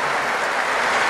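An audience at a Mass in the Basilica of Itatí claps in a dense, steady burst of applause that fills the whole short moment, loud and even, like a wash of rain.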